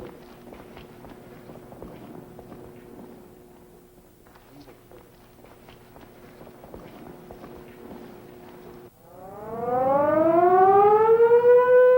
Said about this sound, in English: A siren sounds 5 minutes before the day's work starts